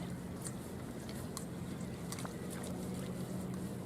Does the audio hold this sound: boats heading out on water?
yes